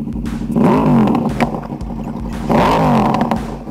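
A Yamaha R1 motorcycle with a very loud exhaust revs hard twice, each blip rising and falling in pitch with a roaring snarl, close by, with the engine idling roughly between the revs.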